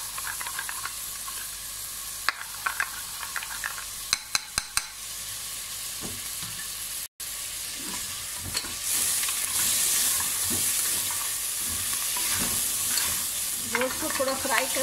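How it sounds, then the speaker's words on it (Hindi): Mutton frying with onions in a pan, stirred with a utensil that clicks and scrapes against the metal, over a sizzle that swells into a loud, steady hiss in the second half. "थोड़ा फ्राई करेंगे"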